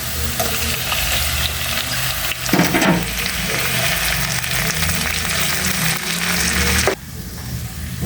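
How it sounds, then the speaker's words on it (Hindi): Tomatoes dropped into frying masala in a pan, giving a steady loud sizzle with stirring scrapes and a sharp burst of crackle midway, continuing without talk. "अब हमने इसमें टमाटर ऐड कर देने हैं।"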